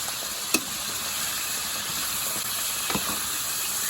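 Shrimp sizzle in a hot pan with crispy garlic, giving a steady, close frying hiss broken by a couple of brief pops.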